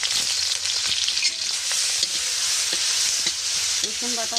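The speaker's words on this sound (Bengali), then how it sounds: "এবার কড়াইতে আমি কাঁচা লঙ্কা ফোড়ন দিয়ে দিই, রসুন বাটা" Green chilies and garlic paste fry in a wok, a bright, continuous sizzle close up with small pops and crackles and a few clinks of a stirring utensil near the end.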